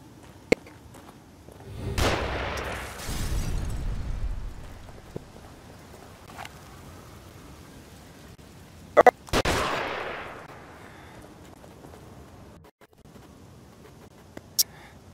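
Enemy gunfire in The Evil Within, a few sharp cracks and bursts amid rushing noise swells, sparse and moderately near against quiet ambience.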